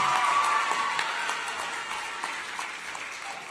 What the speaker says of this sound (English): we have one more round of applause for Dhonielle,